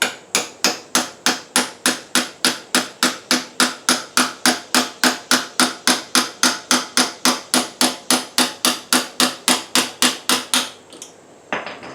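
A hammer strikes the crank of a 1974 Suzuki TC 125 motorcycle in a rapid, even series of about forty sharp metallic blows, close and loud, then stops.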